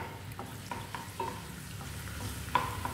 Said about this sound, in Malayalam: ഇപ്പോൾ വെളുത്തുള്ളി ഒന്ന് ബ്രൗൺ ആവണം.